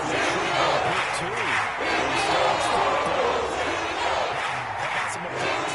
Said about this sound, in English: Got some applause for the defense there.